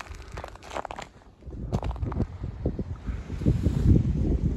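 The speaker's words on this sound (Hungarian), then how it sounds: "itt egyre nagyobb a szél, ha lehet még nagyobb, mint lent" Strong wind on the snowy Pilis-tető summit in Hungary, buffeting the microphone in loud, gusty rumbles with crunching, crinkling sounds mixed in.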